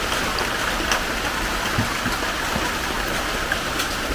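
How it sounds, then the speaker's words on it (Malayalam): Coconut milk is poured into a pot of ada pradhaman payasam, making a continuous, even rushing pour that runs at full strength from start to finish. "঒ഴിക്കാൻ മറന്നുപോയി, ഇപ്പോൾ ഒഴിക്കണം"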